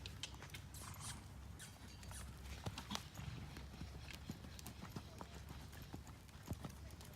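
A horse canters in a schooling session, steady rhythmic hoofbeats thudding close by with faint clinks throughout, while a person talks over them.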